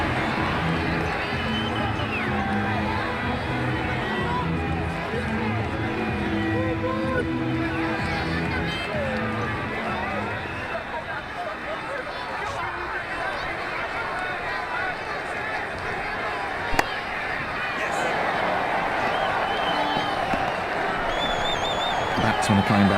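A stadium crowd in a cricket video game roaring after a four in an India versus Australia T20 World Cup match, a loud sustained cheer under ongoing commentary that gradually thins.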